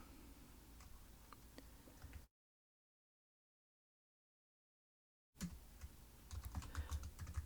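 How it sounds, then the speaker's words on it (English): Typing on a computer keyboard to enter a command, rapid close clicks of keys for about two seconds, a stretch of dead silence, then more keystrokes resuming. "we're just going to type in npm install add capacitor"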